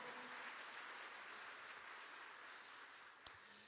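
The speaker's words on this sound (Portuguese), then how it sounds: "aplauda mais forte ainda ao Senhor" A church congregation applauds in praise, a steady wash of distant clapping that fills the hall evenly, with one sharp knock near the end.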